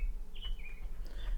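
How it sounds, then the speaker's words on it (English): Birds sing faintly in the background, giving a few short whistled chirps in quick succession over a low, steady hum. "There's some beautiful birds singing in the background for you."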